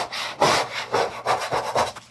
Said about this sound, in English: This side I sanded down.